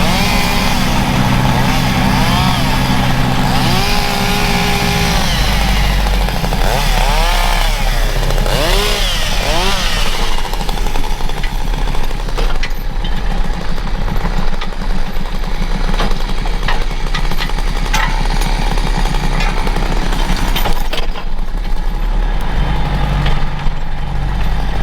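A tractor engine runs steadily and loudly while skidding logs on a homestead, its drone rising and falling under load, with a chainsaw-like buzz continuous throughout.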